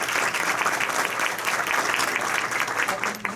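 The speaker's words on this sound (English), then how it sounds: "she deserves a round of applause" An audience at a Rotary Club meeting applauds its long-serving Interact Club advisor, with dense, steady clapping that holds at full strength from start to finish.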